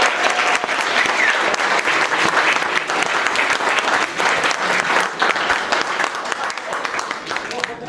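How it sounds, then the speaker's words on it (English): Wedding guests at the reception give a long, loud round of applause for the speakers, dense continuous clapping that fills the room for several seconds before easing slightly at the end. "a huge round of applause for all your speakers today."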